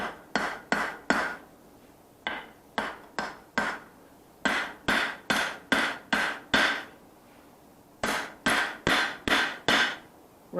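Hammer blows forging hot steel for a paring knife, a steady rhythmic series of sharp close strikes in quick groups separated by brief pauses.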